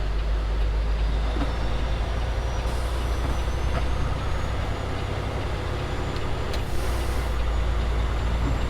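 A heavy truck at a Valley Transportation site drives slowly around a weigh scale, its diesel engine a loud steady rumble throughout, with a hiss of air brakes and faint beeps coming through, and nobody talking.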